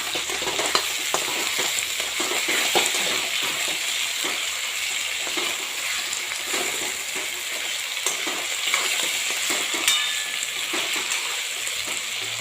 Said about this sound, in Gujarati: આપણે બટાકા, ટામેટા, ડુંગળી બધું તેલના અંદર શેકાઈ રહ્યું છે